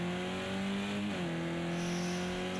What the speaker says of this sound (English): Oh, Car's had a bit of a spin.